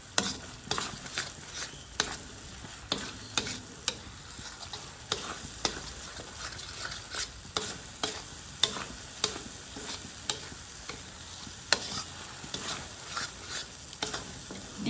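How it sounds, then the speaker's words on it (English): Onions frying in a pan for Malaysian chicken curry, a soft steady sizzle broken by regular scraping knocks of a utensil stirring against the pan, close and quiet with no talking. "You have to fry until all the onion is cooked and smells nice."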